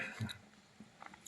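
Close, soft chewing and lip smacks come from someone tasting a homemade village-style fish curry cooked with mustard paste, in quiet irregular bursts.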